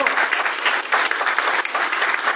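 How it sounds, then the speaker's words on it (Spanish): Congregation applauding during a church service, a loud, dense burst of clapping that holds steady for a couple of seconds with no voices over it. "Ese aplauso es con poca gana, menos que forzado"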